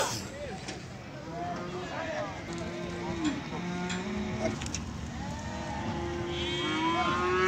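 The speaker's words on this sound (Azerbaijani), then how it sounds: "bax, belə bir dana var" A calf moos repeatedly at the Füzuli livestock market, its drawn-out calls rising over a dense background of crowd murmur and people talking nearby.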